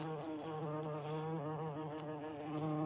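A large bee or wasp trapped between a tent's bug net and outer fly buzzes close and steady, its droning pitch wavering as it struggles.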